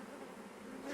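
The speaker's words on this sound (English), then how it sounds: "look at this evil little wasp taking advantage" A wasp hovering near a tiny honeybee colony in a bird box gives a steady, close insect drone that holds level and swells slightly at the end.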